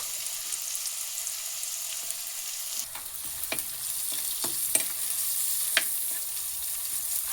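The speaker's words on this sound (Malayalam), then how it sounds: "ഇതിലോട്ട് കുറച്ച് മഞ്ഞൾപ്പൊടി ഇട്ടിട്ട് മൂപ്പിക്കാം കേട്ടോ" Turmeric powder frying in hot oil in a pan while making an anchovy fish curry, a steady close sizzle with scattered sharp crackles and spatters and occasional stirring scrapes, no voices.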